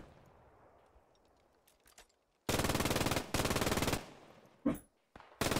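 Machine gun fire in a military shooter video game, heard as several long loud bursts of rapid automatic shots separated by short pauses, with quieter ambient game sounds before them.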